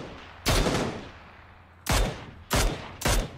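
Four sharp gunshots from PUBG combat, evenly loud and close, the first alone then three in quicker succession, with no talking.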